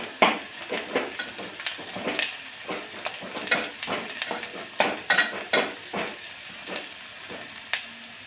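Onion and grated coconut fry in hot oil for a stuffed brinjal masala, with steady sizzling broken by repeated scraping stirs of a spoon against the pan, close and fairly loud, no voices.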